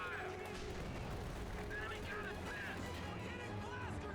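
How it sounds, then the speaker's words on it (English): An anti-tank rifle grenade fires amid a World War II-style video game battle, with booming artillery and gunfire thudding continuously at moderate distance beneath a commentator's talk. "Firing an anti-tank rifle grenade, that'll buy them more time."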